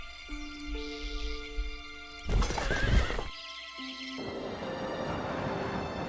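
A horse in Age of Wonders II whinnies in a loud shrill burst midway, with soft hoof clip-clops and steady game music tones around it and no talking.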